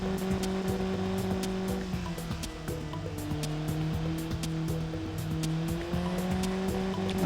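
Car engine droning at steady revs with shifting tones as it overtakes, tires hissing and faintly squealing over the road, with a constant close roar throughout.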